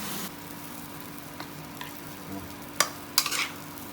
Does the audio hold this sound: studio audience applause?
no